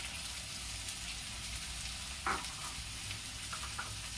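Vegetables frying in a pan for pasta give a steady, close sizzle throughout, with one brief clatter of stirring partway through and a few soft ticks near the end.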